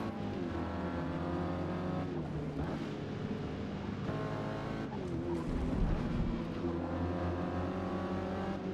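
A Mazda MX-5 Cup race car engine in Forza Motorsport drones and revs continuously, its pitch climbing and dropping through gear changes, loud and close throughout.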